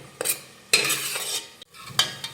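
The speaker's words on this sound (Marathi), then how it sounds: "तर हे वाटण व्यवस्थित परतून घेऊयात" Masala paste for chole is sautéed in a pan with a few quick stirring strokes, each scrape bringing short bursts of sizzle between brief pauses.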